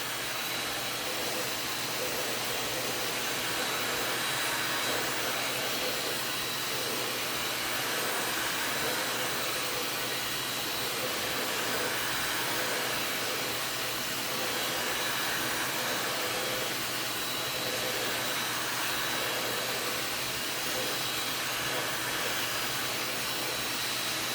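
A heat gun blows hot air onto a plastic tube during Tower Garden assembly, producing a continuous, even hiss and roar that stays steady throughout the whole stretch.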